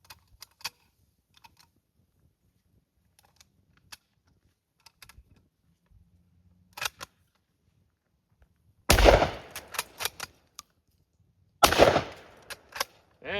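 Shotgun blasts at exploding targets at an outdoor range: a few light clicks and handling noises while reloading, then two loud, sharp shots several seconds apart, each with a long trailing boom.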